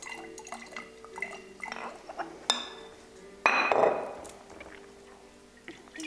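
An olive oil and rice wine salad dressing is stirred in a glass container, with faint clinks and liquid swishing, a few sharper taps of glass, and quiet kitchen background.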